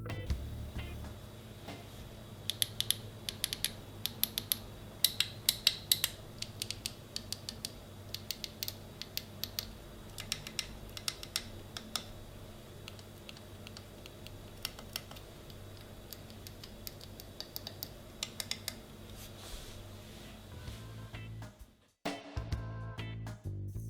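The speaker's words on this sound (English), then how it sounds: "Here's how the switches sound." The switches and buttons on a WinWing F-16 EX flight stick click crisply one after another in an irregular, close, quiet series over a low background hum, with no talking.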